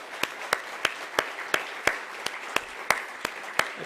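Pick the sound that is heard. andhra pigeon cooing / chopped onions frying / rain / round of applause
round of applause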